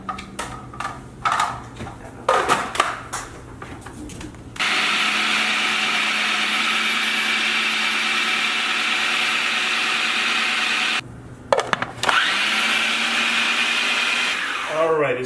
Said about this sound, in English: We're going to place it in the food processor. And the reason we're putting it in the food processor is to make them creamy and smooth.